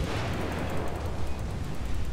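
Naval guns firing incendiary shells in the World of Warships game, a dense, continuous rumble of booming blasts rolling together at steady loudness with no talk.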